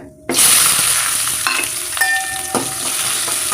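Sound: onions frying in oil

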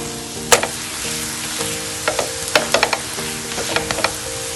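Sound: pancake frying in oil on a griddle

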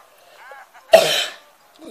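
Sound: cough

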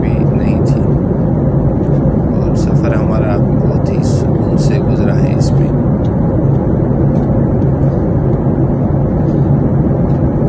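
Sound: passenger airplane cabin in flight, Qatar Airways

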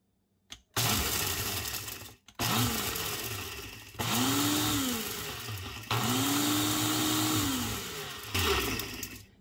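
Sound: blender grinding dehydrated hot peppers into powder

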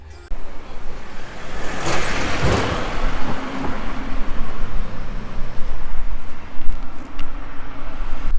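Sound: car driving on a highway toward Sofia

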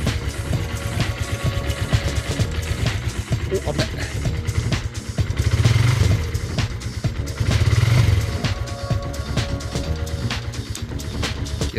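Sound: Suzuki GN motorcycle engine started and running after two months idle

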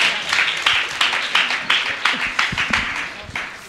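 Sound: audience applause

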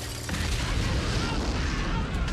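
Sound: Molotov cocktail explosion in a war film

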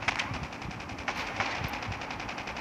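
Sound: gunshots in Call of Duty Mobile video game

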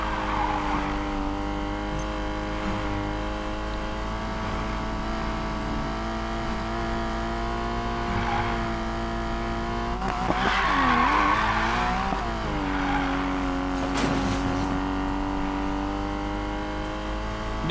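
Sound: car racing engines and tire skids in Need for Speed: Payback video game

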